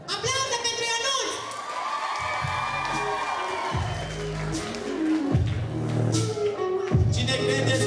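A school ball crowd cheering and clapping for a student, with shouts and whoops from young people rising in bursts over continuous applause and some voices.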